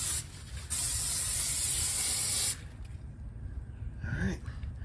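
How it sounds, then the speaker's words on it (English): Cooking spray hisses onto the grill grates of a Lone Star Grillz Santa Maria in one long, close burst, followed by quieter handling sounds and a soft breath. "I don't wanna get cooking spray all over the place"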